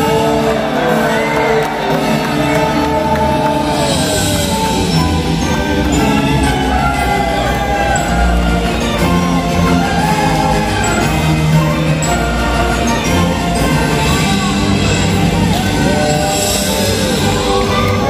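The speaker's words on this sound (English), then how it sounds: "Raise a cheer for the Knights of the" A large arena audience at Medieval Times cheers for the knights, with whoops, shouts and a steady roar of crowd noise lasting throughout, loud and close.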